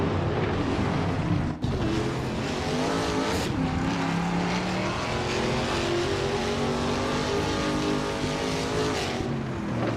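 Trans Am race cars roar around the Long Beach street circuit, their engines loud and sustained as several pass close together, with changing pitch and a brief drop in the middle.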